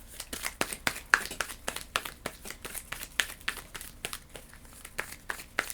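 Playing cards being shuffled during a Galactic Cruise board game, a dense run of quick crisp riffling snaps and papery crinkles in steady bursts, close and fairly quiet with no talk.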